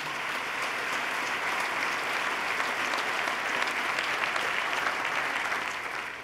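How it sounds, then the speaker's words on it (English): Sustained, dense applause from a large crowd at a State of the State address fills the whole stretch at steady loudness, with no voices rising above it. "let's give them a round of applause for their turnaround"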